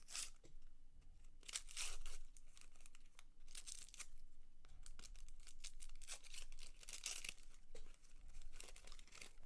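A 1991 Donruss trading card pack being torn open, with continuous close crinkling and ripping of foil wrapper in quick irregular bursts, fairly quiet.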